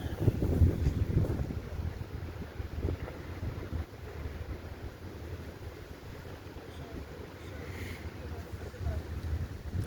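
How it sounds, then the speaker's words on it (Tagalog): Blustery wind roars against the microphone beside the sea, a low rumbling gust-driven noise that swells and eases without pause. "Malakas ang dagat ngayon mga bay, lakas ang hangin."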